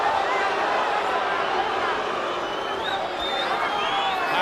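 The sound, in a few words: boxing crowd booing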